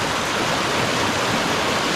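A wide branch of a jungle stream in heavy-rain forest rushes steadily, a dense, even broadband roar of flowing water with no voices over it.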